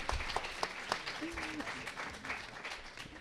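At a science outreach event, an audience gives a warm round of applause for a visiting school group: steady, close clapping throughout with faint voices underneath.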